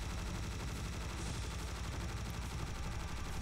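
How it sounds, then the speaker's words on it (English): A cannon firing cannonballs in Serious Sam HD co-op, heard as a constant, loud barrage of heavy gunfire with rapid repeated blasts that fill the whole stretch. "Keep firing the cannonballs"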